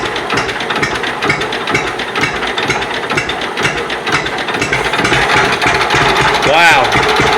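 A John Deere B tractor engine runs on and refuses to shut off, a loud, close mechanical clatter with rattling, ratchet-like knocks that build slightly toward the end, with a brief voice partway through.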